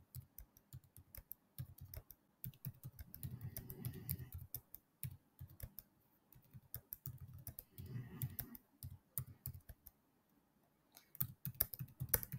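Keys clatter on a computer keyboard as a number is entered during a beginner programming lesson, quiet, irregular bursts of clicks with short pauses between them and no speech.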